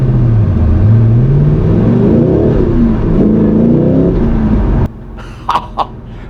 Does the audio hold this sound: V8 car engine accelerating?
yes